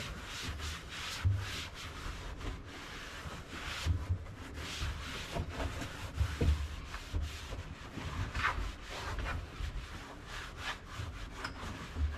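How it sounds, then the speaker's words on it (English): Degreaser wipes rubbed back and forth over panels on a KRX side-by-side, a steady close scrubbing friction with repeated strokes and no talking. "we're going to wipe them down with some wipes real quick, a little degreaser"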